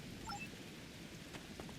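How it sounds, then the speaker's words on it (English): Steady rain falling on an alien planet in the Star Trek Online video game, a dense, even hiss that holds at the same level throughout with no voices over it. "Wow, rain on Ryza."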